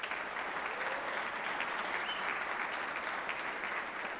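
Audience at a school district honor band concert gives a steady round of applause for school administrators, an even, continuous patter of many hands, somewhat distant and soft.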